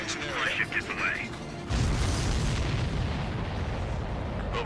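In the Ace Combat 7 mission Operation Reflux, a missile strikes a supply ship and a sudden explosive burst breaks in, then gives way to a sustained rumbling blast. Faint voices and noise come before it.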